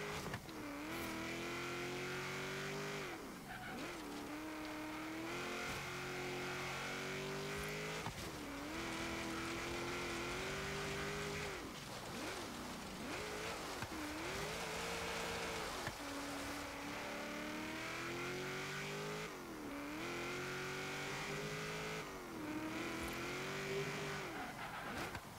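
A 1970 Chevrolet Corvette ZR-1 in Forza Horizon races through an autocross course, its engine roaring continuously and loudly, with the revs repeatedly dropping and climbing through gear shifts, alone with no talk.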